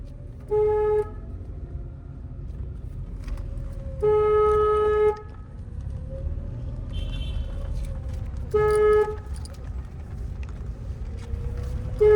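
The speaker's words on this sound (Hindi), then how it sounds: "हॉर्न बहुत ज्यादा बजाती है आप, इतना मत बजाइए हॉर्न" Car horn honked repeatedly while driving slowly through a narrow lane: three separate blasts, the middle one longest, over a low steady engine and road rumble with no talking.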